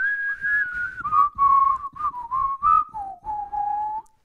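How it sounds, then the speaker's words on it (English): A person whistles a short melodic phrase alone, clear and close, in a series of distinct notes that step gradually downward in pitch. "I'm not a bad whistler"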